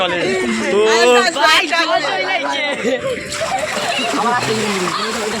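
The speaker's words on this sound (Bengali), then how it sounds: "গাইজ দেখো গাইজ কিভাবে জল বাড়ছে দেখো হুড়ুর করে" A tidal bore surges up the Ganges, rushing and splashing water swelling against riverside steps, while excited onlookers talk and shout loudly over it throughout.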